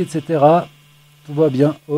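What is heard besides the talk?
None of the usual background noises is heard.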